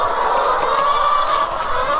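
Hens on an organic farm, moving about inside the henhouse near the nesting boxes, cluck and squawk steadily at close range with no break. The sound is dense and busy, as if many birds are calling at once.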